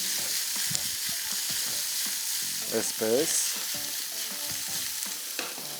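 Tofu lightly frying in a pan, a steady soft sizzle with occasional stirring scrapes, close and even throughout while a voice speaks briefly over it.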